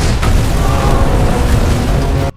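Massive explosion from the film Under Paris, a loud, dense, sustained boom with deep rumbling body that roars for about two seconds before cutting off abruptly.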